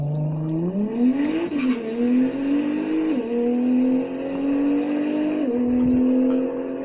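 Nissan GT-R engine drone climbing in pitch through several gear changes, steady and moderately loud, heard without any talking.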